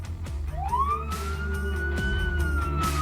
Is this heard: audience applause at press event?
no